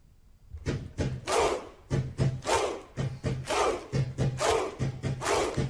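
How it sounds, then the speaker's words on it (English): Iceland football fans at the 2018 World Cup perform the Viking clap, a big crowd striking loud, booming claps in unison, each followed by a chanted shout, with the rhythm gradually quickening. "There was a lot of this going on, the Viking clap."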